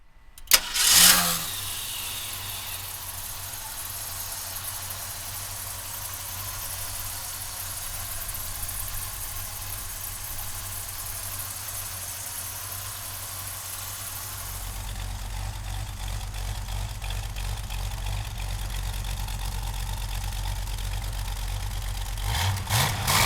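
A 1966 Ford Mustang V8 engine cranks and fires with a sharp burst, then settles into a steady, lumpy idle, growing louder and rougher near the end.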